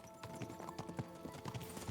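Horse hooves clip-clop in quick, regular rhythm in the video game Kingdom Come: Deliverance II, a steady trot sounding close and moderately loud with no talking.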